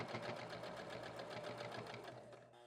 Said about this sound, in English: When I'm done, I'm going to sew across again